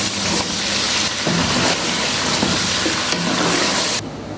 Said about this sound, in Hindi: चिकन आलू दोनों को दोबारा फ्राई करेंगे।